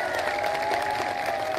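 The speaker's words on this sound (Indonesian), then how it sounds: "Tepuk tangan untuk BSI." A crowd at an Indonesian religious talk claps and cheers briefly, a dense burst of applause with a steady tone underneath.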